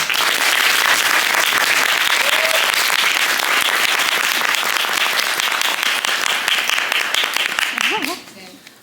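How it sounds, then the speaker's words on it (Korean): An audience at a book-talk event in a Hongdae hall welcomes the guest Seong-a with loud, sustained applause from many people, a thick steady roar that fades near the end as a voice begins speaking. "여러분 큰 박수로 환영 인사 부탁드릴게요."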